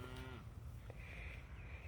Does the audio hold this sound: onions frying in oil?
no